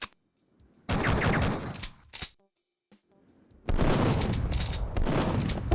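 Shotgun blasts in Duke Nukem 3D come as a few loud, booming bursts separated by near silence. A heavier, sustained volley of fire follows at the end.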